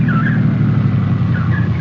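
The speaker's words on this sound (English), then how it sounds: "Oh, hey, I hear a car coming." A car approaching in a radio drama sound effect: a steady, fairly loud low engine rumble and road noise with no voices over it.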